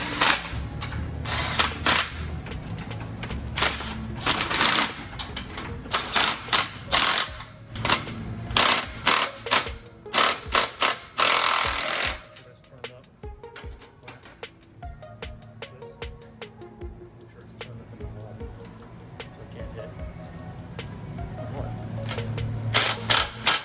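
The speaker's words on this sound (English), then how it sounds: "Make sure the pipes are equal, and you can tighten them up." A ratchet clicks in rapid bursts while exhaust pipe clamps are tightened on a 2020 Ford Shelby GT350 Heritage Edition Mustang with a stainless resonator-delete X-pipe, the loud ratcheting thinning out halfway through into sparser mechanical clicks and taps.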